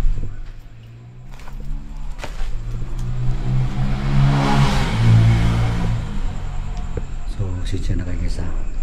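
A motorcycle engine revs close by inside an abandoned building, its tone rising to a peak around the middle and falling back, with a person talking over it.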